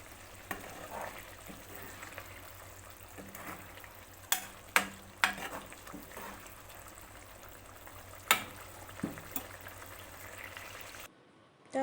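Wild mushrooms simmering in a pan, a quiet bubbling sizzle with sharp scrapes and clacks of a spoon stirring at irregular moments, heard close with no talk.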